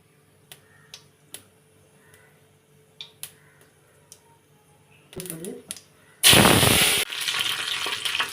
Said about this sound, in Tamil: சோம்பு சோம்பு பொரியும் கருவேப்பிலை போட்டுக்கலாம்